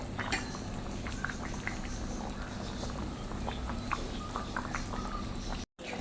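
A pan of Kerala-style crab curry simmers up close, with soft bubbling and scattered little pops over a low, steady hiss.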